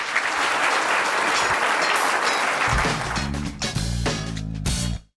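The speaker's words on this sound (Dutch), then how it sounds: "En daar wil ik nog een keer een heel hartelijk applaus voor." At a Venray business award evening, the audience gives warm applause to the four organising parties, loud dense clapping that carries on as low musical tones rise beneath it near the end, then cuts off abruptly.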